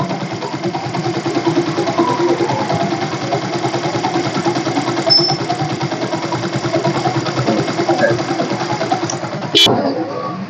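A Yamaha FZ motorcycle idles close by with a steady, even throb that holds throughout, with a brief knock near the end and voices talking over it.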